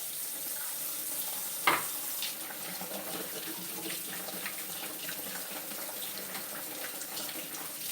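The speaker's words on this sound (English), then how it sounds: "Now I'm washing my hands." Water runs steadily from a household tap while someone washes their hands, a quiet, even hiss with a single brief clunk early on and no talking.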